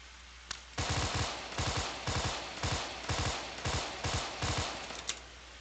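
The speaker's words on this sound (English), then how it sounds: "No, they're shooting back." Automatic gunfire in a video game, with about eight rapid bursts of shots in a steady rhythm, loud and close, preceded by a single sharp shot and no talking.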